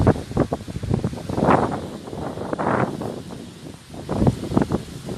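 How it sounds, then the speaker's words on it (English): Strong wind gusts buffet the microphone outdoors, rising and falling in loud rumbling bursts with rustling underneath, no talk. "It is so windy"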